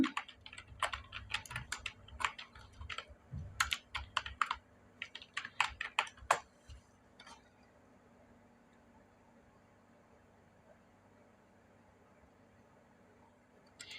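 Bursts of quick, crisp keystrokes on a computer keyboard, close and clear, rattling for several seconds and then stopping, leaving faint room hiss.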